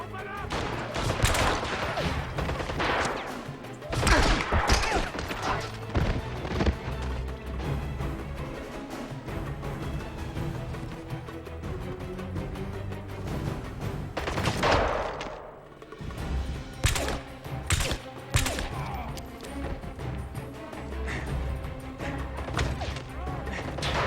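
In the video game 007: Blood Stone, enemies open fire in repeated bursts of gunshots and impacts, loud and close, broken by short lulls, with voices mixed in among the shots.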